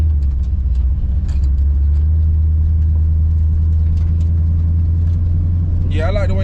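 A supercharged Oldsmobile Cutlass rumbles steadily while driving, a deep heavy low-end drone that stays loud throughout, with people talking over it and a brief sharper squeal near the end.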